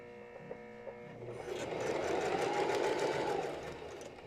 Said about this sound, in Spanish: vuelvo a estirar y continúo cosiendo